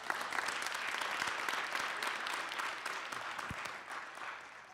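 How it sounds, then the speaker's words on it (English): A crowd applauds a panel and host at an evening industry event, a full, even round of clapping from many people that gradually softens toward the end. "Let's give our panel and our host another round of applause."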